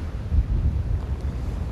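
Gusty wind buffets the microphone on a beach of wet sand, a steady low rumble with soft surges and no other clear sound.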